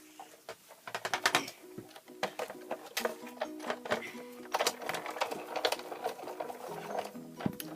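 A Big Shot die-cutting machine runs cardstock through, giving uneven mechanical clicks, ratcheting and grinding bursts at close range with short pauses between turns.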